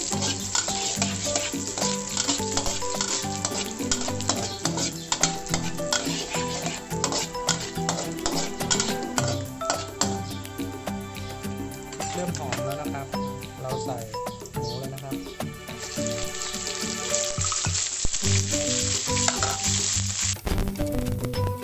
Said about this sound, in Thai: กระทะเริ่มร้อนเราใส่พริกเลยนะครับ